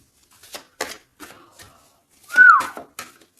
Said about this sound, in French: Non, c'est pas bien sifflé